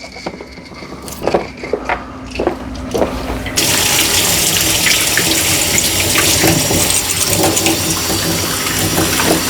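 Liquid rust remover poured down a drain: scattered drips and clinks at first, then a sudden steady rush of running water that continues loudly to the end.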